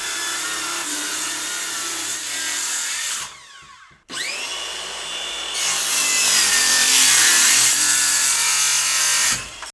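A saw rips a wood panel down to 30 inches wide for a deep shop cabinet, loud continuous cutting that drops out briefly, then spins back up and carries on steadily to the end.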